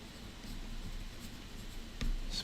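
A pen scratches softly across paper in close, faint strokes during a pen-and-ink drawing session, with a slightly louder tap or stroke near the end and no talk.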